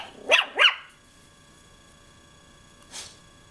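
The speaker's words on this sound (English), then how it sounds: "What's you barking at?" A dog gives two quick, sharp barks close by, then silence before a softer third sound a few seconds later.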